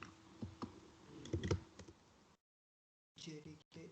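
A computer keyboard is typed on in a quiet room, a few soft close clicks before a brief silence and then more keystrokes.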